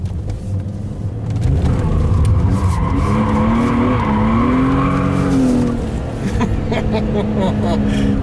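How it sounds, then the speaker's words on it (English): A car drifts sideways around a corner, its tires skidding in a long, loud, wavering squeal over the roaring engine, with a voice talking underneath. "This is drifting."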